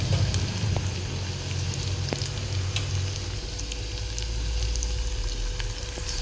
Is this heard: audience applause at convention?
no